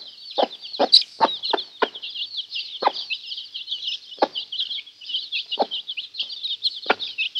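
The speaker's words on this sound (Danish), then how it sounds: "Ja, hun skrukker." A hen clucks in a steady, uneven series of close, short clucks while her small yellow and brown chicks peep continuously in a high chorus throughout, with no talking.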